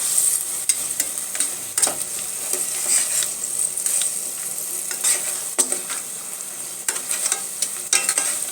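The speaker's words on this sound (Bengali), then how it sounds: "একটু কষিয়ে নিতে হবে একটু রসুন বাটা সবই দিই আমরা এটা একটু ভাজা ভাজা হয়ে আসলে" Garlic paste and spices fry in a pan with a soft continuous sizzle, punctuated by frequent scraping stirs of a utensil against the pan.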